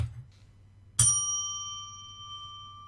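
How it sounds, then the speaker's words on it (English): A single bright bell strike rings out clearly after a brief low hum, its pure metallic tone sustaining and slowly decaying over the next two seconds. "Now the bell can be free to sound like it's naturally meant to sound."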